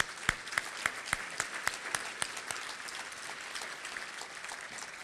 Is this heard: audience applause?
yes